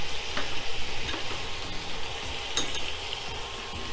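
Prawns fry in oil with salt and turmeric, a close steady sizzle with intermittent stirring scrapes and a few light clinks of utensil on pan, no voices.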